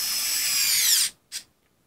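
A SKIL powered screwdriver loosening a screw: a high, steady motor whir for about a second, then a short second burst, close up and alone.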